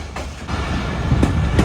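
Bolan Mail passenger train rolling past a station in hot sun, a steady low rumble of wheels and carriages with faint rhythmic clicks and a couple of brighter rail squeaks, heard from on board.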